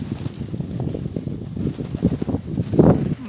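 Strong gusty wind blows across the microphone outdoors in Crimea where pigeons are being flown, producing low rumbling buffets that swell and surge, loudest near the end.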